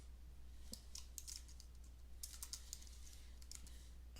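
Quiet, crisp keystrokes tap on a computer keyboard in irregular bursts over a low steady hum, with a pause mid-way before typing resumes.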